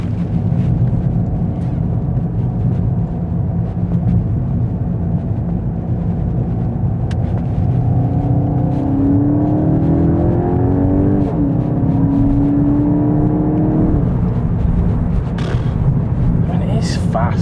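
A Lamborghini drives along a road toward the Oman border, its engine a steady loud drone inside the cabin, climbing in pitch as it accelerates midway, with voices talking over it.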